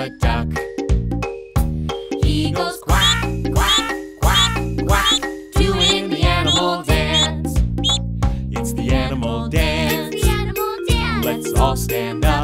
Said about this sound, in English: The duck. He goes quack, quack, quack.